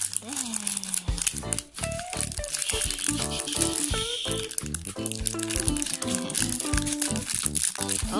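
Crinkly plastic wrapping crackles and rattles as it is peeled off a Hatchimals Glittering Garden mystery mini package, close up, with a child and an adult talking throughout.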